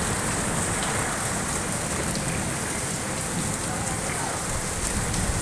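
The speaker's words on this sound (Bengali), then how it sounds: "ঝমঝম করে বৃষ্টি পড়ছে" Heavy rain pours steadily in a hot-weather downpour with lightning about, a dense, unbroken hiss of drops drumming on surfaces close by, with no voices.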